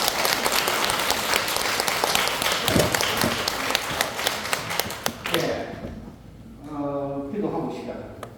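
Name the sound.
audience applause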